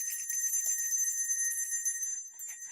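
Salvation Army red kettle hand bell ringing at a Houston mayor's news conference: a steady, bright, continuous jingling peal that holds throughout and fades slightly near the end, with no talking.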